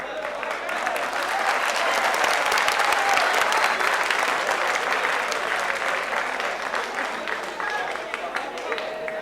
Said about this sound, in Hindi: अगर ये तालियां मेरे लिए बजी हैं तो बहुत बहुत शुक्रिया